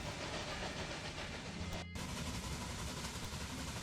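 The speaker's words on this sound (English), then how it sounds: "here comes the return train, going back to Albany with some meat on board" A freight train hauling meat back to Albany rumbles steadily along the rails in Railway Empire 2, a continuous dense roar broken by one brief dropout midway.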